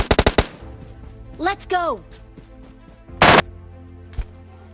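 MK14 rifle gunfire in the mobile battle royale game BGMI: a fast burst of sharp shots opens, then single loud cracks follow among game sounds, while a voice speaks briefly.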